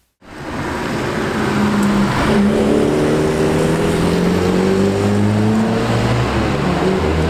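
A small 1.0-litre car engine starts up and drives, its hum rising and shifting through gears, loud and close over steady road noise.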